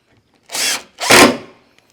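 A power drill drives screws into a window frame on a vardo wagon build, two short, loud whirring bursts back to back, close up, with quiet around them.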